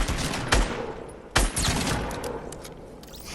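Two loud, separate shotgun blasts go off in Fortnite about a second apart. A few fainter shots and clicks follow.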